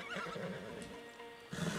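A horse neighs loudly and close in Red Dead Redemption 2, a drawn-out whinny followed by a snorting burst as its hooves shift beneath.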